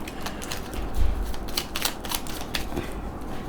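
Crisp riffling and flicking of small tarot cards being shuffled, a rapid run of close, quiet papery snaps and ticks heard alone.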